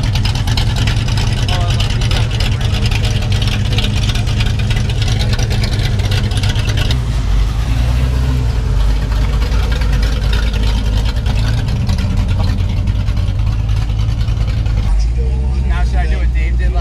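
A loud car engine fitted with dump pipes rumbles continuously at a car show, a deep close drone with shifts in tone partway through, while people talk over it.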